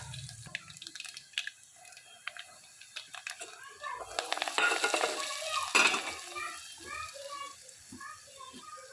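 Mustard seeds, garlic and curry leaves hit hot oil in a pan. A rising hiss comes with sharp crackles and pops, and a few knocks of stirring sound near and clear.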